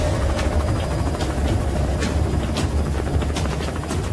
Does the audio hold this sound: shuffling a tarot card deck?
no